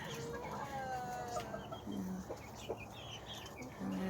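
Backyard chickens cluck softly and intermittently near the microphone, with a rooster's crow rising briefly among them in a quiet outdoor setting.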